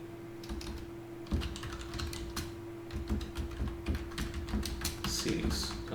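Fingers tapping a computer keyboard while entering a prompt into a chatbot, a quick irregular run of soft clicks at close range over a steady electrical hum.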